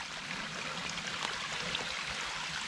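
Spring water trickles down beside a pipe on a hiking trail, making a steady, broad outdoor rush and babble that continues without a break.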